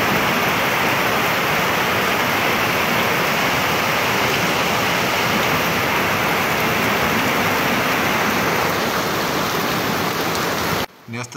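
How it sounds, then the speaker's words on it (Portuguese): Heavy tropical storm rain pours down in Managua, Nicaragua, a loud, dense, steady roar that lasts almost the whole stretch before cutting off abruptly near the end. "chuvas fortes causadas pela onda tropical 3 na Nicarágua causou inundações e prejuízos em Managua"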